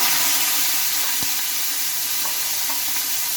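Garlic, green chillies and onion dropped into leftover oil in a pan beside set-aside potatoes, a steady loud sizzle with a brief stir or clink, no talk.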